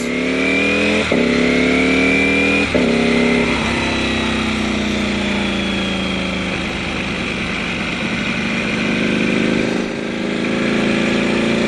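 A 2018 Ducati Panigale V4 Speciale motorcycle being ridden: a loud, close engine note climbing in pitch through repeated gear shifts, then holding a steady high-revving drone with wind noise.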